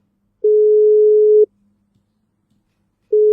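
Phone call tone on a line being dialled: a steady single-pitch beep lasting about a second, a pause of nearly two seconds, then the next beep starting, loud and clean with no voices.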